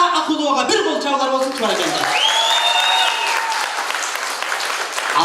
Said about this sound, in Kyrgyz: Динара Акуловага бир кол чабуулар болсун, баракелде